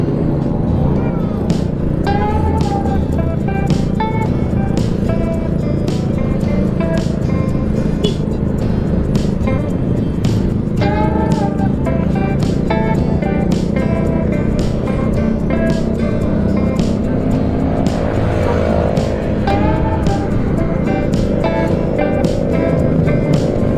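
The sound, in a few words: motorcycle exhaust noise while touring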